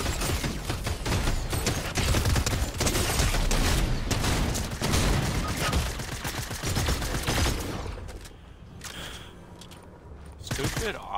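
Heavy, repeated blasts of auto shotgun fire in a Fortnite battle during a Halloween event, thumping close and loud in quick succession for about eight seconds, then easing off, with a few more shots near the end.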